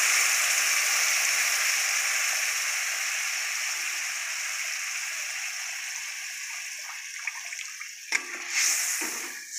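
Crab broth is poured into a simmering crab meat and onion curry, giving a long steady hissing splash that slowly fades, followed by a few brief clinks and splashes near the end.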